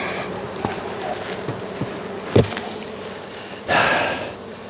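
Honey bees hum around an opened hive box during an inspection, a steady close buzz with a few soft knocks, rustles and a breathy snort-like burst near the end, no talk.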